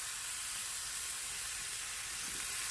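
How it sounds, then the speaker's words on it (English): Roast beef pieces sizzle and hiss steadily in a hot pan, a constant even frying sound close up with no talking. "So we're just going to let these sort of saute a little bit."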